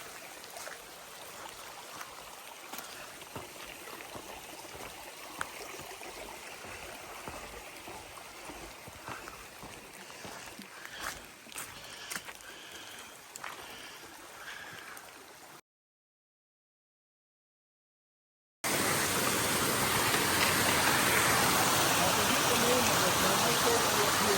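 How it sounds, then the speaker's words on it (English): Steady broadband rush of a waterfall swollen by rain fills the scene, briefly cutting out before returning louder and denser. "we got some good water flow today. Awesome waterfall."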